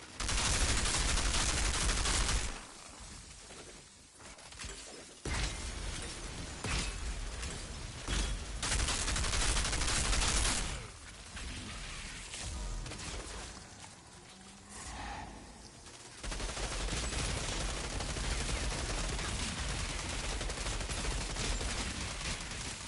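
Gunfire from the video game Outriders: repeated bursts of shots and fusillades, loud and dense, with brief quieter gaps between volleys.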